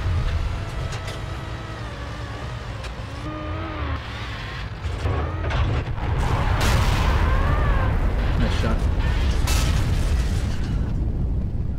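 A tank shell hits in the video game World of Tanks, a rumbling explosion swelling over a continuous engine drone and mechanical clatter, with tonal game effects and bursts layered over the dense battle noise.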